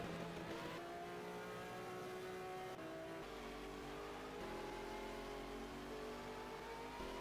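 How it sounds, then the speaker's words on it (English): A Porsche race car engine in a racing video game, droning steadily with rising and falling revs through gear changes, heard alone without talk. "That Porsche sound is bloody terrible."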